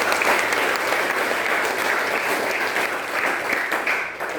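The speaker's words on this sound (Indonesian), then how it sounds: "Kita tepuk tangan Pastor." An audience claps steadily to welcome the new parish priest, a dense, sustained round of applause at a church building-committee gathering in Loon. The applause stays loud throughout and begins to thin toward the end.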